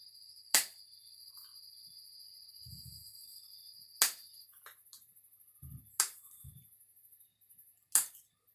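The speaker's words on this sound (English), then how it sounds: "A lot of fireworks. It's fireworks." Fireworks popping outdoors at a distance, four sharp isolated cracks spaced a couple of seconds apart over quiet background with faint insect-like chirping.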